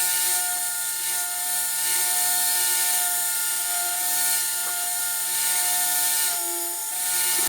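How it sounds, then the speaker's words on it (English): Steady whirring of a power sander taking the top layer off a thick wooden boomerang blank, a continuous close tonal drone with slight pitch wavers and no pauses. "I'm just going to try to sand a little bit of that top layer off"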